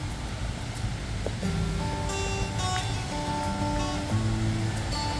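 Continuous rushing water of a flowing river, steady and full, with faint tonal sounds drifting over it.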